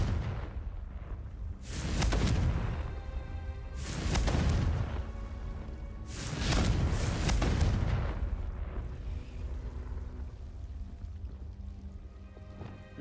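Confringo fire spell explosions in the Hogwarts Legacy video game, three loud deep booming blasts a few seconds apart, each with a roaring, crackling decay over a low game ambience.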